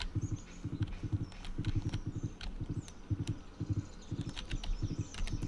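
Horse hooves clip-clop in steady, even groups of beats while riding across a farm in the Stardew Valley video game, close and clear over faint background sound, with no talking.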